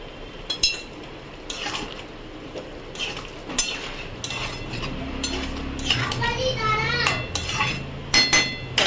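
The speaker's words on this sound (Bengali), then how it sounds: "গরম মশলাটা দিয়ে এই ঢাকা দিয়ে দিলাম।" A metal lid set onto a cooking pot of soybean curry, bringing brief clinks and clatter of cookware, with children's voices and household chatter in the background.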